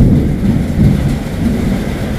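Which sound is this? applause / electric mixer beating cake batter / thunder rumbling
thunder rumbling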